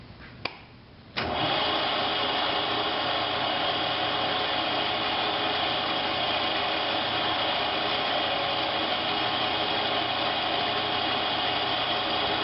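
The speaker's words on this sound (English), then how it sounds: "Center drill back in." Metal lathe spinning with a center drill in the workpiece: a few clicks and a brief hum, then a loud, steady machine whine and rumble that holds to the end, with no talk.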